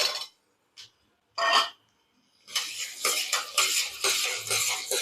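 Garlic goes into foaming sesame oil in a pan, heard as a few separate metal clinks and scrapes followed by a continuous crackling sizzle with utensil stirring, close and fairly loud, no talk.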